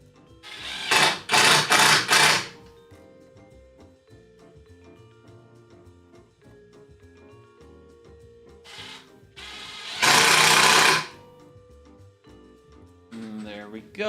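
Power driver sinking screws into a wooden board while building a scrap-wood shelf: two loud whirring bursts, the first a quick series of pulses and the second one long run, close by with a quiet gap between.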